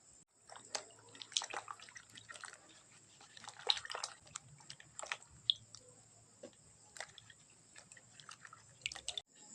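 Sliced saba bananas are washed by hand in water, giving irregular close splashes, drips and squishy handling noises in bursts with quiet gaps, no talking.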